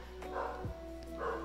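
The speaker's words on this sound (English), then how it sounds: "So just as my dog starts barking" A dog barks twice, fairly faint and a second or so apart, over a low steady background hum.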